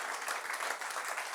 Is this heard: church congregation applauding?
yes